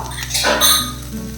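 Metal utensil clatter in a pan as spring onion and egg are stir-fried with grated coconut, with a couple of quick, close clinks and scrapes over a faint background.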